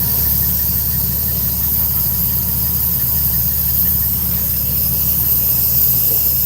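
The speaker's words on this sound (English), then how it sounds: "And drop the leveling valve a little bit." A Peterbilt truck's trailer air suspension leveling valve lets out a steady, loud hiss of escaping air over an idling engine hum, continuous and close, with no voices.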